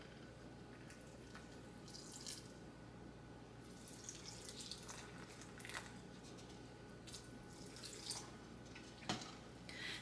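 Water poured from a container onto the soil of a newly potted plant, a faint, soft trickling and gurgling with small splashes, heard up close and quietly.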